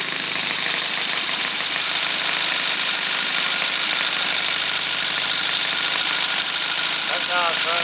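A Saito 300 twin model aircraft engine with C&H ignition runs steadily at about 1600-1700 rpm, a loud, continuous buzzing drone close by that rises slightly in pitch near the end.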